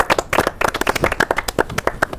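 A studio audience claps along on a Spanish TV show, with sharp, uneven hand claps in a dense cluster that rise and fall over a couple of seconds, fairly close and loud.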